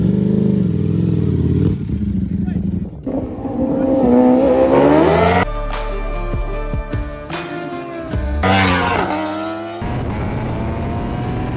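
A tuned Hayabusa or Ducati Panigale V4 motorcycle engine runs at a race event, idling and revving close by with rising and falling pitch, shifting rough clatter and sharp changes in tone.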